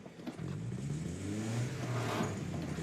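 Stick-shift car engine revving roughly as the driver struggles with the clutch, a steady close mid-range drone rising slightly in pitch over about three seconds with no talking.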